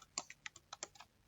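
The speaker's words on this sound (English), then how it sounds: "now let's enter username and password" Quick run of crisp keystrokes on a computer keyboard, close and fairly quiet, about a dozen irregular taps as a username and password are entered.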